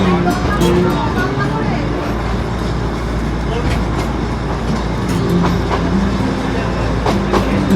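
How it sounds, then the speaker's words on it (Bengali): The Darjeeling toy train on the Siliguri to Rongtong line rumbles steadily with a loud continuous roar and faint rhythmic clatter of wheels, close by, while people talk over it. "টয় ট্রেন যাচ্ছে"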